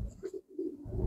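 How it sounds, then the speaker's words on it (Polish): Racing pigeons in a loft giving soft, low, repeated coos, close and quiet, with no talking. "gołębie już są"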